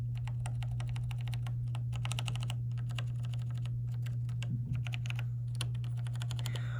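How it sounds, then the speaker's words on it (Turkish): Fast, continuous typing on a new mechanical keyboard with Cherry switches, with crisp, close key clicks over a steady low electrical hum and no speech. "Cherry. Bak böyle çıkıyor sesi."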